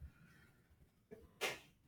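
A single short sneeze, fairly faint, stands out near the end of a quiet indoor stretch with low background hum.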